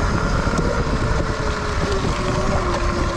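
An upgraded electric scooter rolls over gravel, its tires crunching continuously under heavy wind rush and a faint motor whine, steady and close with no talking.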